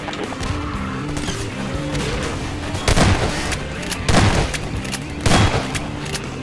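Explosions and gunfire in the sci-fi shooter MINERVA: Metastasis, three heavy booming blasts spaced about a second apart over a continuous bed of combat noise and music.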